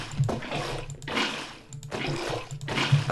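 Water buckets poured in Minecraft survival, a run of gushing, sloshing water sounds that repeat about every second, close and clear, no voices.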